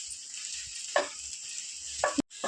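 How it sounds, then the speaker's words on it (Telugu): Green chillies fry in hot ghee in a pan, a steady low sizzle with two brief sharper crackles and a short clatter near the end. "ఇప్పుడు మిరపకాయ వేసేసుకున్నాము"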